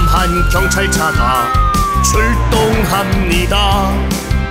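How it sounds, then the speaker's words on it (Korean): A cartoonish police car siren wails over a bouncy, loud Korean children's song from Tayo the Little Bus with singing voices, its tone gliding up and down across the music. "경찰차가 출동합니다"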